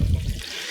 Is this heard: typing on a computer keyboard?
no